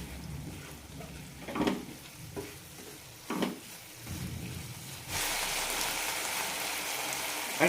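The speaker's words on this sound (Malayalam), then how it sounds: "ഇടയ്ക്കൊന്ന് ഇളക്കാം." A spoon stirs yam flower masala curry in a pan, making a few scraping strokes over a faint sizzle. The frying then swells into a steady, louder hiss.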